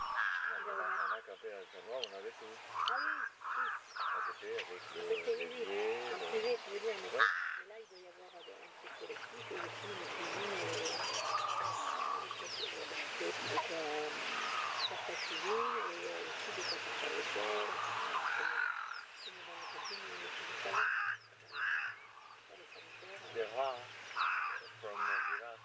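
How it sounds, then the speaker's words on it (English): Cape crows call outdoors in a natural setting, giving repeated harsh caws and croaks at close to moderate distance, mixed with other birdsong and a low steady hum throughout. "Just enjoying the sounds of the Cape Crows."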